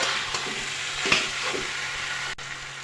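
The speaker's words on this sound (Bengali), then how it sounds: "মশলা প্রায় ভাজা ভাজা হয়ে গেছে, এখন দিয়ে দেবো এতে সামান্য পরিমাণে চিনি আর চেরা কাঁচা লঙ্কা।" Spices fry in a pan for jackfruit curry as sugar and slit green chillies go in, a steady close sizzle with occasional stirring scrapes and a brief clatter near the end.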